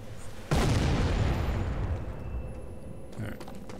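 Frag grenade in the Sniper Elite video game, a single loud booming blast with a sharp onset that rolls off into a long rumbling decay.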